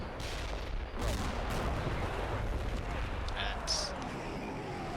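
Artillery fire in the wargame Combat Mission Black Sea rumbles as a dense, continuous barrage, with heavier booming bursts rising out of a constant low roar.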